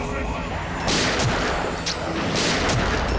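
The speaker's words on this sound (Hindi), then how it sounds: "जब जज श्रीकांत यहाँ पर आए और उन्होंने उस पर गोली चलाई" Gunfire in a tense crime-drama scene, with sharp broadband bursts rising out of a dense, noisy background of continuous sound for about three seconds.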